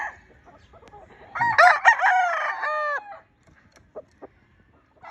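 A Kanawayon gamefowl stag of the Batman line crows once, loud and close, a drawn-out cock-a-doodle-doo, followed by a few faint knocks in an otherwise quiet yard.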